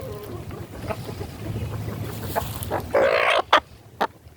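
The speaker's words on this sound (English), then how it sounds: "these both are the breed of kung fu chickens" Kung fu hens clucking in a garden, a few short loud squawky calls near the end over a low rumbling background, with brief sharp bursts between them.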